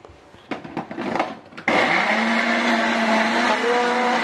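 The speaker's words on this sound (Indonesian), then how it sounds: "Kita blender sampai halus." A few short clattering bursts, then a blender whirs on loudly, blending cuko empek-empek sauce with water, and runs steadily at a high pitch until the end.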